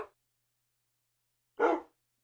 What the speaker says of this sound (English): You can hear a wolf barking, but there is no wolf anywhere.